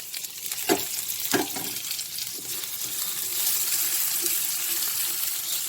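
Orange sauce with butter, lemon and orange zest is stirred in a pan, giving a steady close hiss with a couple of sharp utensil clicks near the start that settles into continuous sizzling.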